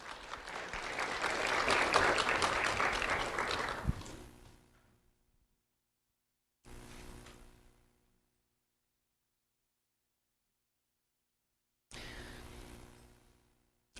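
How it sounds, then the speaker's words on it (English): Audience applause for a student honoree at a sheriff's office recognition event, a swell of clapping that fades out, followed by two shorter, quieter bursts separated by silence. "Round of applause for Amaya Nelson."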